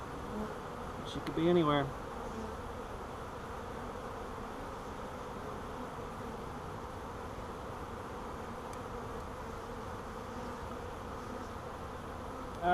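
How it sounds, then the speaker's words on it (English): A caught swarm of honey bees being installed into a hive gives off a steady, soft, even buzz that lasts throughout, with a voice speaking briefly near the start. "we're going to put these bees back together"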